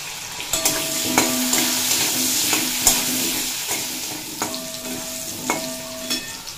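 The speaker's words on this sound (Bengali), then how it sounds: "আলুগুলো স্বাদ মতো লবণ আর পরিমাণ মতো হলুদের গুঁড়ো দিয়ে ভেজে নেব।" Potatoes seasoned with salt and turmeric fry in oil, a bright steady sizzle punctuated by regular metallic scrapes and knocks of a spatula stirring against the pan, close and clear.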